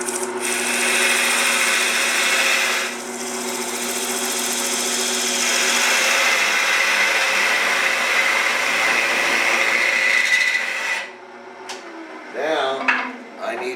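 Red oak turning on a wood lathe, a loud steady rushing hum with a tool cutting against the spinning wood, then a sudden drop near the end as a voice speaks briefly.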